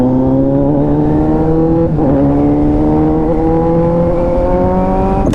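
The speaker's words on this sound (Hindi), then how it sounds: "हा कडक भाई का रेव का आवाज भाई खतरनाक है" A loud, steady car engine revving hard with rising harmonic tones, held close and continuous for several seconds, with a brief dip near the middle before it climbs again.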